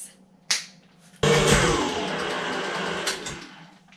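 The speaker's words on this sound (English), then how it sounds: "Then I'm going to beat it for 3 minutes in the mixer." An electric mixer beats cinnamon roll dough. A couple of sharp knocks come first, then the motor starts into a loud, steady whirring churn that runs to the end.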